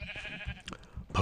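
Sheep in the game TerraFarmaCraft give a short bleat, a brief wavering cry close by that sounds twice in just over a second, the second call louder.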